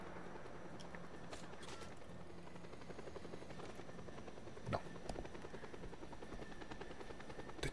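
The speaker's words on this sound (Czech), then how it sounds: "Tak, vrtulníku, pojď." Helicopter in the video game Just Cause 2, a steady rotor whir and engine drone throughout, with a couple of sharp louder bursts near the middle, no talking.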